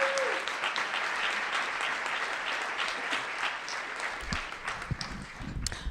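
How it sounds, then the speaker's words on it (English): A crowd at an arts council grant ceremony claps steadily throughout, dense applause at moderate loudness that continues to the end, with a few thumps late on. "So a huge round of applause to both of them."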